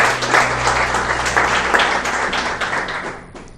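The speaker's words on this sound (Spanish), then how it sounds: "Yo no sé si usted le puede dar un aplauso a Dios por eso." A church congregation breaks into loud, dense applause that holds steady for a few seconds and then begins to fade.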